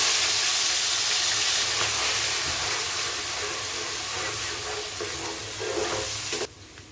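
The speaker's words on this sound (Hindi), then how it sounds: "तो मैंने जो अनियन और टमाटो का पेस्ट तैयार किया है थिक सा, उसको मैं अभी डाल के देर तक भूनूंगी" Thick onion and tomato paste frying in hot oil for an egg curry, a steady loud sizzle and hiss that continues throughout before dropping off abruptly at the end.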